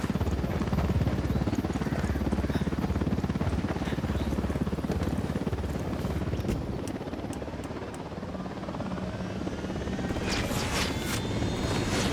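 A helicopter in the Ghost Recon Wildlands video game approaches with a loud, continuous rotor and engine roar that fills the whole stretch, with a brief burst of sharper clatter near the end.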